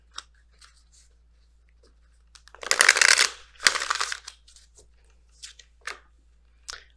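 Messenger Oracle cards shuffled by hand close to the microphone, two longer riffling bursts in the middle among scattered light taps and card rustles in otherwise quiet surroundings.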